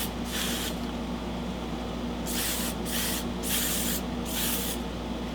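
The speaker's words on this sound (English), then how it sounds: "And then I usually put some hairspray up here like that." Tresemme Beautiful Volume hairspray is sprayed onto hair in several short hissing bursts, one early and a quick run of four or five later, close and clear over a steady low room hum.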